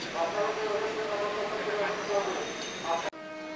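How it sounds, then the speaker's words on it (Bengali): Commuter train pulling into a platform on the Kolkata circular railway, a steady loud rumble with a faint horn-like tone running throughout, cutting off sharply near the end; a voice speaks over it. "ওই দেখুন ট্রেন ঢুকছে"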